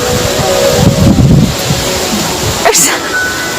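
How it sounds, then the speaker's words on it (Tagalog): Strong wind buffets the microphone outdoors on high ground with a steady broadband roar and a few louder gusts, while people talk over it. "Ang lakas ng hangin."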